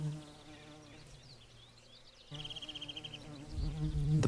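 Steady insect buzzing hums throughout, swelling louder toward the end with a pulsing drone as wings come close.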